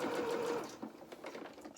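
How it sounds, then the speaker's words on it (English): A sewing machine fitted with a Schmetz Microtex needle, about size 70, stitches a test seam, its fast steady motor whir running loud and close for a moment before slowing to a stop. "let's just have a go at just stitching down a seam as if you were stitching a seam, and this will test our needle"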